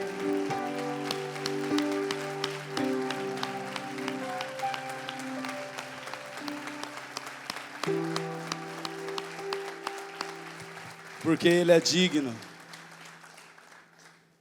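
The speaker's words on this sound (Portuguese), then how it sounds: "Você pode dar uma salva de palmas para Jesus?" A church congregation gives Jesus a round of applause, a soft patter of clapping beneath sustained keyboard chords and a preacher's voice, swelling briefly near the end.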